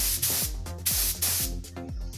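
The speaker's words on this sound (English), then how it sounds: "so I'm just going to spray that area" Short hissing bursts of a spray gun laying down a base coat on a part, about four close, loud sprays in quick succession over a low mechanical hum.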